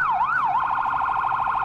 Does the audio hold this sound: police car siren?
yes